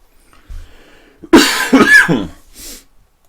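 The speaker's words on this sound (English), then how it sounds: "Excuse me for the cough" A person coughs a few times up close, in harsh bursts with breathing in between, followed by a softer final cough.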